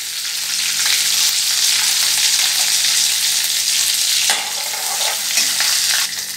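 A spoonful of cumin seeds sizzling in butter in a pan for pav bhaji, loud constant close frying hiss with light stirring, no voices.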